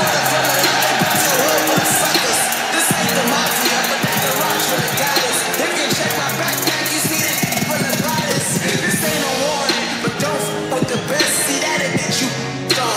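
A raucous crowd fills the SSE Arena at the Conor McGregor vs Floyd Mayweather fight, a dense, constant roar of cheering and babble that stays loud the whole time, with some thumping noise mixed in.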